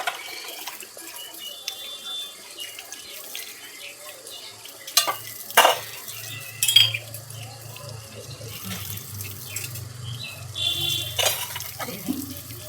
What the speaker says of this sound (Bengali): তো বাসন কটা ধুয়ে মেজে নেব